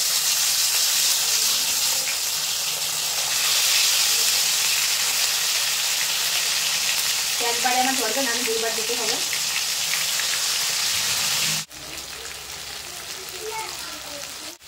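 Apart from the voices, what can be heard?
marinated chicken chaap pieces frying in hot oil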